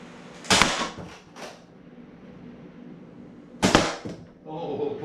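An Adventure Force Conquest Pro foam dart blaster with a K25 spring upgrade fires twice a few seconds apart, each a sharp close snap followed by a brief rattle, with quiet gaps between.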